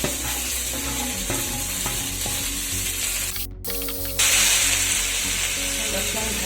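Small pieces of jackfruit fry in a pan with a loud, continuous sizzle and faint stirring clicks. The sizzle breaks off briefly, then comes back stronger.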